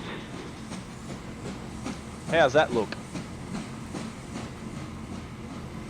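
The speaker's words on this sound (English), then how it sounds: "Here comes train." A train in the video game Transport Fever 2 runs with steady rail rumble and clickety-clack, with a brief louder burst of squealing in the middle, while someone talks over it.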